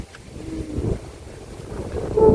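Gusty wind buffets the microphone with low rumbling thuds and swells, rough and uneven throughout.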